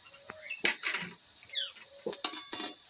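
Ginger paste, whole chilies and spices are stirred in a pan for an egg tadka, with a run of close metallic clinks and scrapes over a faint background sizzle.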